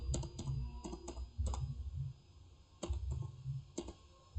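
Someone types a short terminal command on a computer keyboard while checking for newly created text files. Close, quiet key clicks come in small bursts of several quick taps with brief pauses between them, and no voice is heard.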